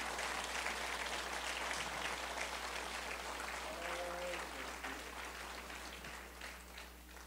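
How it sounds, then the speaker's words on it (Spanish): Congregation at a church service claps in praise, a faint, distant wash of applause mixed with a murmur of voices and a low steady hum underneath. "Un fuerte aplauso al Señor"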